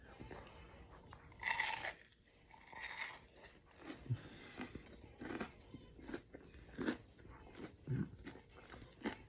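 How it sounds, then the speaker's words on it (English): Homemade keto chicken nuggets crunch loudly with each bite, close to the mic, followed by a run of softer chewing sounds. "And listen to this crunch."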